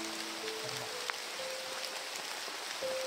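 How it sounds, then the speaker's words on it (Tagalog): Rain falling outdoors without letup, a soft, continuous hiss with faint tonal hums over it and no voices. "hindi uminto yung ulan"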